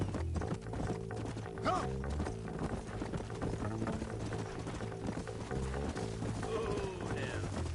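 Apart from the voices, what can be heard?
horses galloping in video game Red Dead Redemption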